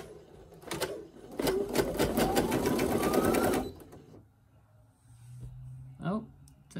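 Home embroidery machine, of the SE1900, PE800 or PE700 type, stitching a snap tab: fast, loud mechanical chatter for a few seconds, then it stops and a person talks over quiet room tone.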